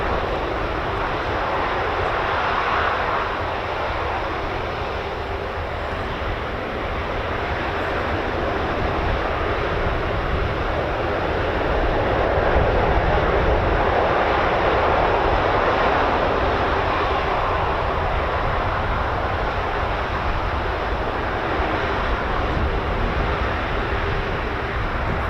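A US Air Force KC-135 tanker with CFM International jet engines of 21,600 pounds thrust each roars at RAF Mildenhall, a loud, steady broadband engine rumble sustained for the whole stretch with no talking.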